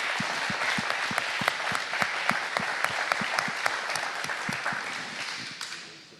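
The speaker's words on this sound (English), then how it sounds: "So I want to give a round of applause to our town staff." An audience applauds their town staff at a State of Superior community gathering, a dense, steady round of clapping with a few sharp nearby claps standing out, fading toward the end.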